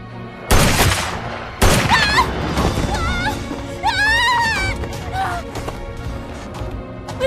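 Pistol shots from a drama scene ring out loud and close, two sharp reports followed by a clattering, crashing action sequence with other sounds layered over it.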